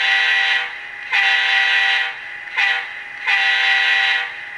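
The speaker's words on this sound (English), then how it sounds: "But that was the crossing gate sound." The crossing-gate horn pattern from a Digitrax SDH164D sound decoder in a Proto 1000 Seaboard Air Line F3A model locomotive gives four clear horn blasts, two longer, one short, then a long one, on a quiet background.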